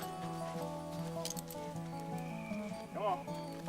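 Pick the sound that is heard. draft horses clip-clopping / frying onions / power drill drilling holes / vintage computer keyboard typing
draft horses clip-clopping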